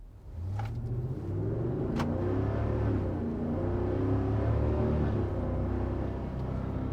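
Ford Super Duty 7.3L truck with an MBRP 4-inch cat-back single exhaust launching hard, heard from inside the cab: a deep, steady engine rumble that builds and holds as the truck accelerates, with a couple of faint clicks early on.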